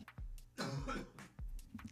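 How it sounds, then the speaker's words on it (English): Two or three short, fairly close coughs or throat clears in quick succession, separated by brief quiet gaps. "Sorry, I had to cough there"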